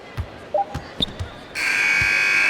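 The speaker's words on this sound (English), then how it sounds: "Final buzzer sounds, and that'll do it." A few basketball bounces thud in NBA 2K21, then a loud, sustained electronic final buzzer blares and continues to the end.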